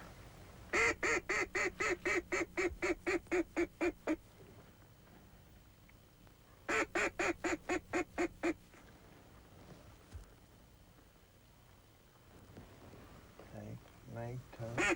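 Ducks quacking during a 1995 duck hunt, heard in two rapid bursts of loud, evenly spaced calls that sound like a duck caller, followed by quieter background and some talk near the end.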